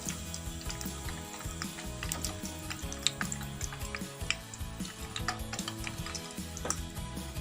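Chicken cheese balls deep-frying in hot oil, giving a steady fine crackle and sizzle with scattered sharp pops and spatters, close and fairly quiet, with no talking.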